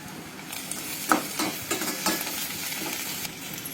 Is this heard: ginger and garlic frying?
yes